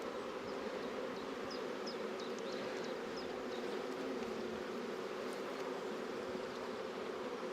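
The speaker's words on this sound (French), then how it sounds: "Puis c'est bien rempli d'abeilles en plus." A dense, steady hum of many bees buzzing close by, with faint higher insect whines flickering over the continuous drone.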